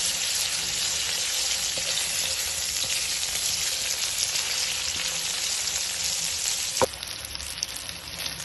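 Garlic and ginger paste roasts in a pan, giving a steady, loud, close sizzle of frying that runs throughout, with a brief utensil clink near the end and no talking.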